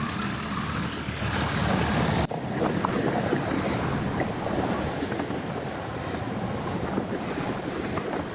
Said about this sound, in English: with the wind coming from our left and in our face